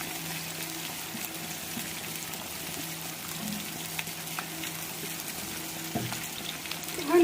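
Julienned onions sautéing in oil in a pan, a continuous soft sizzle and crackle with occasional stirring scrapes and clinks, moderately close and steady.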